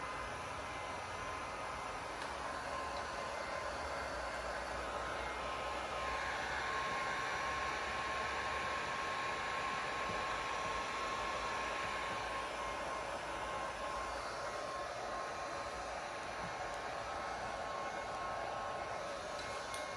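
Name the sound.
heat gun heating window chrome delete vinyl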